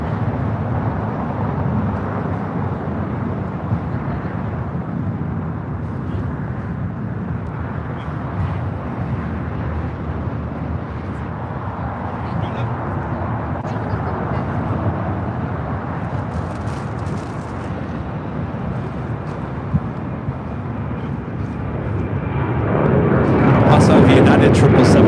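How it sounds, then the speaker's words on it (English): A British Airways Boeing 777-200ER touching down on runway 25 left at LAX, a loud continuous broadband jet roar that holds steady and then swells sharply near the end, with talk running over it. "All right, Speedbird about to touch down on 25 left."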